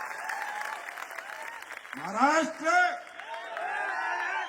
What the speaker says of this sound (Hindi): ताली तो बजा दो, और क्या करें।